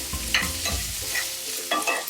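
Carrots and onions stir-frying with Filipino tocino in a pan, with a spatula scraping and tossing in a few quick bursts over a close, steady sizzle, and no talking.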